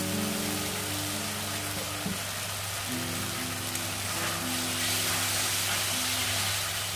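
Masala frying in a pan with a little water added gives a steady, loud, hissing sizzle that fills the whole stretch, with a low hum running underneath.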